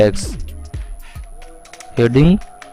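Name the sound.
typing on a computer keyboard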